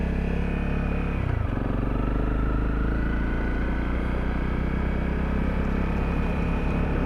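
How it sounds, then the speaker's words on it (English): An off-road motorcycle rides along a remote Sahara beach, its engine giving a steady, close, droning hum that dips in pitch briefly before settling into an even run, with continuous wind or surf noise behind. "an off-road bike riding along a beach in the middle of absolutely nowhere through the Sahara"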